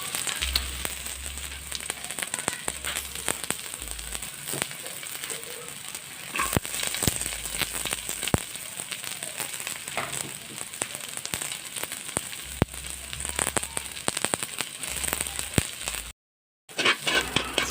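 Onions sizzling in oil in a pan for a Filipino vegetable adobo with oyster and chicken gizzards, with garlic soon to be added; a steady close, soft frying hiss with faint crackles running throughout.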